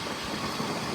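A motorbike engine idles at night in Goa, a steady, continuous low rumble with mild vibration that holds evenly throughout, fairly close and with no voices over it.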